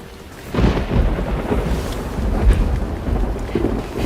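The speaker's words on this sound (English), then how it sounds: "And it's raining." Heavy rain falls steadily while thunder rolls in loud and close, a deep rumbling that swells after a quieter start and carries on to the end.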